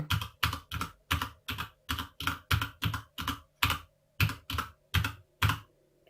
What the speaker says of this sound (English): let me just punch some keys and you will see. So this is what happens when you are typing something.